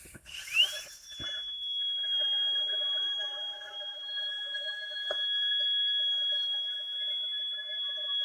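A drill working on a surface: after a short clatter, a thin high-pitched whine spins up and holds steady, fairly quiet, with a faint click partway through and no speech.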